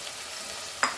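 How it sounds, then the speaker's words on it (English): Onion frying in a pan for a Goan chicken curry, giving a steady soft sizzle with a brief louder stirring scrape near the end, no voices. "fry this onion very nicely, golden brown"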